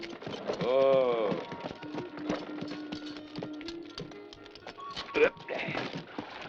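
Stagecoach horses stopping at a relay station, faint scattered hoof clops under a man's loud call and other voices, with brief clattering near the end.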